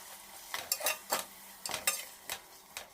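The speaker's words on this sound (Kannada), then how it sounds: "ಈಗ ಎಲ್ಲ ಐಟಮ್ಸ್ ಹಾಕಿದಾದ್ಮೇಲೆ ಚೆನ್ನಾಗಿ ಮಿಕ್ಸ್ ಮಾಡ್ಕೊಳ್ಳೋಣ." Paneer pulao ingredients with rock salt being stirred together in a pan, a series of scraping, clinking utensil strokes against the pan in uneven bursts, close and moderately loud with no talk.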